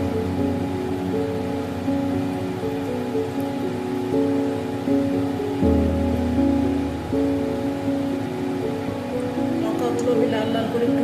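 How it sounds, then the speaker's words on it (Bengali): Three torn chilies frying in hot oil, giving a steady, dense crackling sizzle that runs unbroken throughout, close and fairly loud, with a low humming tone beneath it. "লঙ্কাগুলো আমি লাল লাল করে একটু ভেজে নিয়েছি।"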